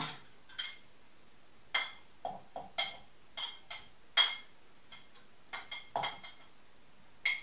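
Hard-boiled eggs dropped into a container while testing a Philips Avance Collection HR1676/90 hand blender: about a dozen sharp, irregular clinks and knocks, close and clear, over a quiet background.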